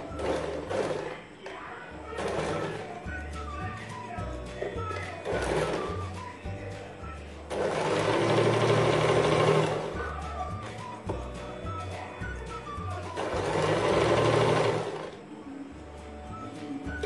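An electric sewing machine top stitching a folded bias strip on a front slit kurti, running in two sustained whirring bursts amid softer thuds and handling taps, fairly close and steady in level.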